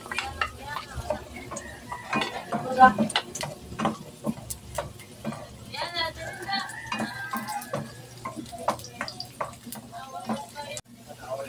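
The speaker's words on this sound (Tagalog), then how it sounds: "At igisa natin dito ang ating garlic" Garlic sautés in a pan for Filipino chicken liver igado, a soft sizzle under scraping and clinking stirring sounds, while a person talks over the cooking throughout.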